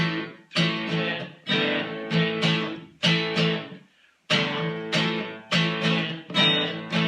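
A guitar part is strummed first on open strings and then on fretted chords, loud and close, in a steady rhythm of ringing strums with a brief pause midway, with no voice.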